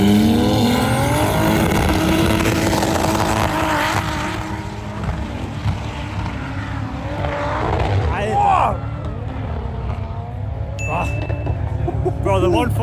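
Audi RS3 Quattro and BMW 140 xDrive drag racing up a ski slope, loud engine roar sustained throughout with shifting pitch and revs, crowd voices and chatter mixed in over the engines.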